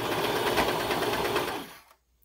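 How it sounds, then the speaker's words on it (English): A sewing machine stitches a sweater dress, a close, rapid, even needle rhythm that runs steadily for under two seconds and then stops into silence. "and then start sewing"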